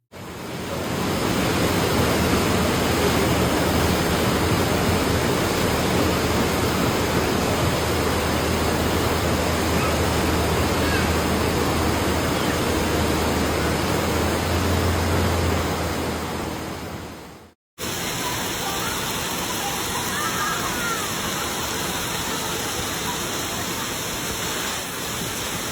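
Rising floodwater rushes through Rongjiang, China, during a second flood wave, producing a loud, continuous broadband roar of churning water that cuts off briefly before resuming just as heavily.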